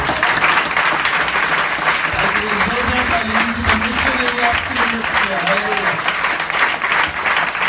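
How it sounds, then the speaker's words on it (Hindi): A church congregation applauds loudly for its pastor during a Hindi-language worship service, a steady wash of clapping across the whole stretch with a voice speaking or calling out over it. "अपने पासवान के लिए एक बार जोरदार ताली हो"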